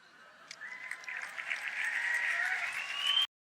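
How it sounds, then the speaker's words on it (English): A crowd applauds and cheers for a pastor, swelling steadily over about three seconds with whistle-like tones rising through it, then cutting off abruptly. "the crowd goes wild."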